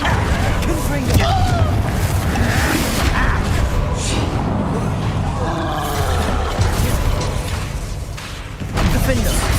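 Confringo blasting spell explosions in Hogwarts Legacy, dense booming thumps and crashing bursts amid continuous combat noise, with a voice calling out over them.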